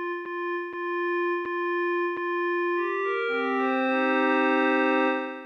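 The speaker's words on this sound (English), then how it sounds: "the classic pad sound, which is the sound that I'm going for at the moment" An Arturia MicroFreak synthesizer plays a pad patch: four short repeated tones first, then sustained overlapping notes swelling into a soft, steady chord with a slow release, clean and alone.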